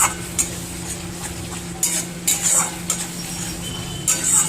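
A spoon stirs and scrapes rohu fish curry masala of onion, tomato and yogurt as it fries in a pan, with a steady sizzle under repeated sharp metallic clinks and scrapes.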